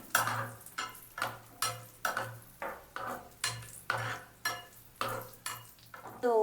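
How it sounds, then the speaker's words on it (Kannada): Grapes fry in a pan just used for browning cashews for vermicelli payasa, while a utensil stirs them in a steady rhythm of scraping clinks, about two or three per second, over a soft sizzle. "ಇದೇ ಪ್ಯಾನಲ್ಲಿ ಗ್ರೇಪ್ಸ್ ಹಾಕೊಂಡಿದ್ದೀನಿ"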